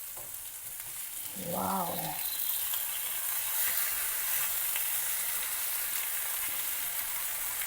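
Macaroni masala sizzles and fries steadily in a pan, a constant hissing crackle that continues throughout, with a short exclamation from a woman near the start.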